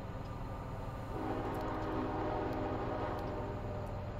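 A diesel freight train in Train Sim Classic rumbles through the tunnels of Cajon Pass near Sullivan's Curve. A steady, loud low drone swells and thickens after the first second, then holds a continuous roar with faint high squeals.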